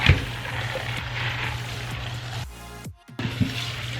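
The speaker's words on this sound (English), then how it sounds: "So let's rinse this lentil that has been soaked overnight." Tap water runs and splashes over overnight-soaked lentils being rinsed for sprouting, a steady close rushing stream that cuts off briefly near the end, then resumes with a few clatters.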